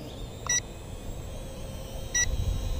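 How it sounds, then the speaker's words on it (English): An Eachine E58 WiFi FPV quadcopter gives two short, high electronic beeps about a second and a half apart, fairly quiet against steady outdoor wind noise. "something's beeping here for some reason"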